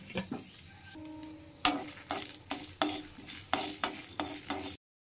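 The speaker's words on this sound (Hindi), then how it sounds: "ए जो मसला रखी थे मसला को हल्का भाजीदेवा।" Masala fries lightly in a heated kadai as a spoon scrapes and clinks against the pan in repeated strokes over a faint sizzle, ending in a brief silence.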